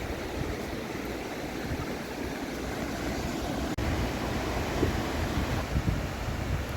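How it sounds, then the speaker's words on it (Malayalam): Sea waves breaking on a quiet shore, heard as a steady wash of surf with wind noise across the microphone, fairly faint and continuous, with one sharp click partway through. "ഞങ്ങൾക്ക് വേണ്ടി തിരയടിച്ചുകൊണ്ടിരിക്കുന്നു കടൽ."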